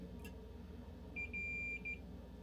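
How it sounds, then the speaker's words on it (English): A continuity tester beeps while probing a boutique fuzz pedal circuit, giving a steady tone in a few short pulses with one longer hold in the middle, fairly quiet over a low hum of background noise. "Hear that beep?"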